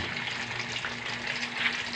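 Tuna sizzles and crackles steadily in hot oil in a pan, a continuous close frying hiss.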